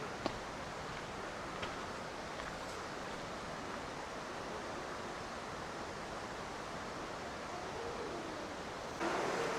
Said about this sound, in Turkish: İleriye doğru ama su akıyor mağaranın içinden.